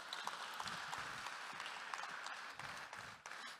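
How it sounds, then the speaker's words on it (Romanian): Applause from an audience at a Diaspora Days 2022 success-stories event, welcoming a guest. Fairly faint, steady clapping from a modest crowd runs throughout with a brief dip near the end. "Eu cred că noi putem să o încurajăm cu aplauze pe Natalia."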